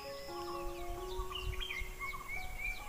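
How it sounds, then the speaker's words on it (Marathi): Several birds sing and chirp together in an evening backyard garden, overlapping whistled notes and short chirps running steadily at moderate distance, with a low rumbling background and no talking. "पक्ष्यांचे आवाज बघ कसे मस्त येतात"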